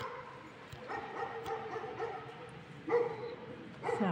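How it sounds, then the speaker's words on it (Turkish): Several dogs bark, yip and whimper in the distance on a rainy, windless night beside an outdoor café, the calls coming in scattered bursts with no talk over them. "Sadece köpek sesleri."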